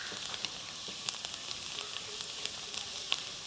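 Garlic sautéing in coconut oil for an egg 65, a bright, steady close sizzle with scattered small pops and crackles, no voices.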